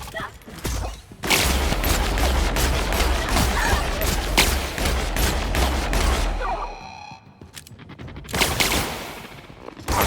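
Machine gun fire in The Outer Worlds, a loud sustained stream of rapid shots with a low rumble underneath, breaking off briefly and resuming in short bursts near the end.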